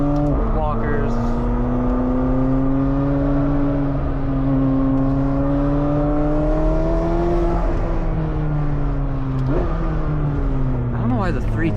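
Porsche 718 Spyder RS sports car with manual transmission driving a track, engine droning steadily loud and close with rising and falling pitch through gear changes, a continuous mechanical roar throughout.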